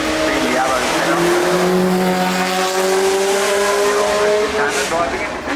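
An Arrows Formula 1 car climbs the hill at the Goodwood Festival of Speed, its loud, high engine note rising and holding steadily as it passes close by, with commentary voices over it.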